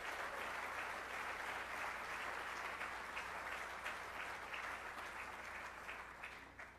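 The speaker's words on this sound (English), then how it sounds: "So we can just give a round of applause for the community as a whole" An indoor audience at a spring closing meeting applauds steadily for several seconds, a dense even clatter of many hands that tapers slightly at the end.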